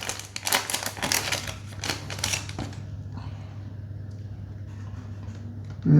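A One Piece trading card booster pack is torn open by hand, with bursts of crisp foil crinkling and tearing up close over the first few seconds, then quieter card handling against a steady low hum.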